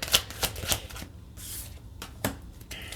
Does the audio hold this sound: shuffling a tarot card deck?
yes